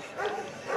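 A Newfoundland dog at a beach lifeguard rescue demonstration gives a brief, faint woof, a single short bark at some distance.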